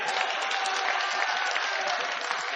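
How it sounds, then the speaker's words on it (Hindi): A crowd at a poetry recital, a mushaira in Firozabad, breaks into loud, sustained clapping that fills the whole stretch evenly, with no voice over it. "दोनों हाथ खड़े करके एक बार जोरदार तालियां बजाइए।"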